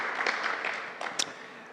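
Audience at a federation management meeting applauds for a doctor being introduced, a brief burst of mixed clapping with a couple of sharper hand claps near the end.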